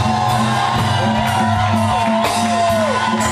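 A church congregation in Switzerland cheers and acclaims to welcome the pastor, a loud continuous crowd din with shouts and whoops, mixed with steady music tones and sustained high vocal lines.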